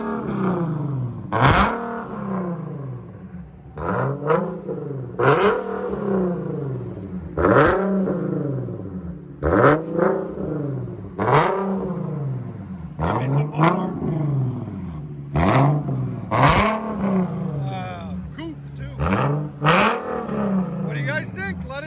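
A 2014 Infiniti Q60 S with a 3.7L V6 and straight-piped dual exhaust revs again and again, each loud rising roar dropping back between blips in a steady repeating pattern, with voices talking over it.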